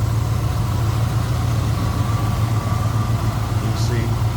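A 1967 Chevrolet C10 engine idling with a steady, smooth, low rumble, close and continuous under the whole stretch, with a person speaking over it.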